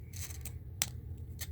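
The bendable knee joints of a doll click as the leg is flexed. Several small, sharp, close-up clicks come quickly in an uneven sequence, with one crisper snap near the middle.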